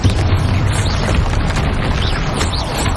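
A rumbling blast from a Bombarda spell in Hogwarts Legacy, loud and dense, holding as a sustained boom-laden roar through the whole moment with no talk over it.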